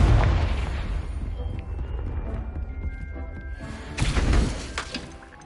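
A Confringo blasting spell in Hogwarts Legacy explodes with a loud, shattering boom, set against a rumbling game backdrop.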